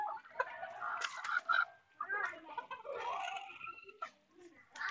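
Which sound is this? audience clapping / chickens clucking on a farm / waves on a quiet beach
chickens clucking on a farm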